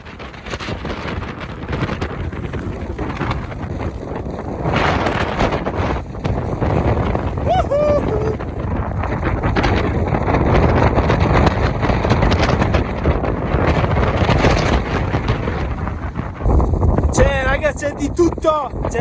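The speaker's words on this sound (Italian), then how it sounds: "c'è un vento della Madonna" Strong wind at Lago Paine in Patagonia buffets the microphone in loud, continuous gusts that build and roar throughout, with a brief lull near the end.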